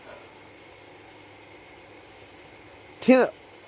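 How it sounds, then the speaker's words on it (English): Insects chirping at night in the countryside, short pulsed trills repeating twice with a steady high hum beneath, faint to moderate, followed by a brief louder vocal sound near the end. "It's out in the country. You know there's going to be bugs."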